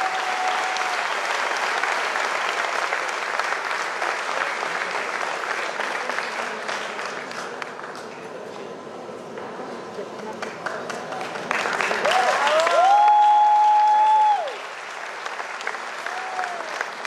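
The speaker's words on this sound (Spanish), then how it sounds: "So a big hand for Cecilia. Así que un aplauso fuerte para Cecilia." A conference audience claps loudly for a woman taking the stage, then the applause thins and a voice speaks over the fading claps before a brief louder burst.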